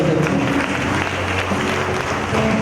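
A church congregation at a bishop's mass claps for the priests being honoured, a dense, steady patter of many hands sustained throughout, loud and close.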